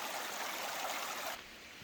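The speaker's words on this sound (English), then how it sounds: "The water flows literally right out of that rock and creates a river." Water pours straight out of rock into Silver Creek, a steady close rushing hiss that runs without pause and then drops noticeably quieter near the end.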